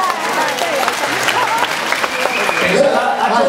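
Dense, steady crowd clapping fills the room at a Raindrops Dance 5th anniversary party, loud and continuous for several seconds, with some voices mixed into the applause.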